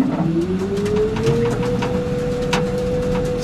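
Nissan Leaf NISMO RC electric race car pulling away, its motor whine rising steadily in pitch then holding a high, loud tone over a rumbling drivetrain, close and continuous with no voices.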